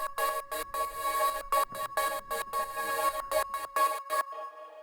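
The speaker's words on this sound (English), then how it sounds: "I want to take a look at the vocal chops" Chopped vocal samples from a Splice vocal, heavily processed with effects, stutter in quick rhythmic bursts with sharp gaps between them in an emotional breakbeat track, loud and alone before cutting off near the end.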